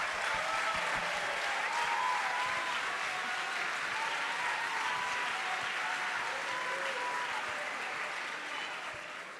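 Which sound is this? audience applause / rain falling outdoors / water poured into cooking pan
audience applause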